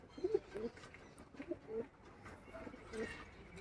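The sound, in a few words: pigeons cooing in loft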